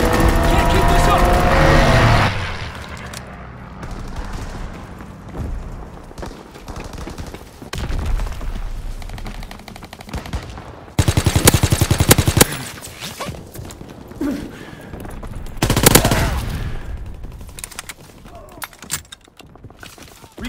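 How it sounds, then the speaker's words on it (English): Aircraft strafing-run machine gun fire in Call of Duty WWII, with loud bursts of rapid gunfire over an ongoing battle din, the heaviest near the middle and again toward the end, with voices in the mix. "Strafing run inbound"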